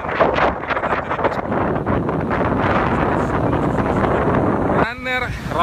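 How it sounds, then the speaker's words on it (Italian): A strong gust of wind on a rocky running trail on Karpathos island roars and buffets the microphone continuously, loud and close, with a voice briefly audible near the end. "guardate che raffica che sta arrivando"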